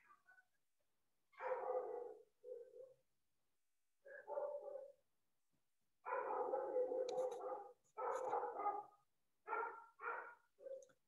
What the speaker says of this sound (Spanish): ¿Escuchan a un perro?